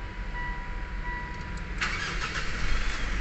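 A 2016-2020 Mitsubishi Montero Sport with a hard-starting problem cranks and catches, a brief burst of starter and engine noise after a few seconds of quiet cabin hum, then a steady running rumble close by.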